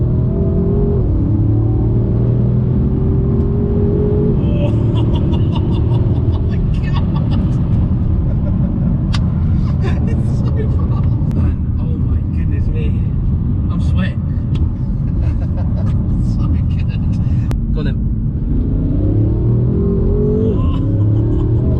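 A 1000bhp tuned BMW M5 F10 accelerates hard, a loud sustained engine roar heard from inside the cabin with rising pitch as it pulls through the gears, while occupants talk over it.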